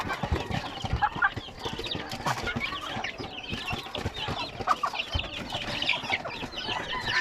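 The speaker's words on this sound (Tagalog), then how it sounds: "Yung mga sisiw yan." Chickens and small chicks cluck and cheep constantly at close range around feeding time, with a busy overlapping chorus of calls and occasional louder squawks.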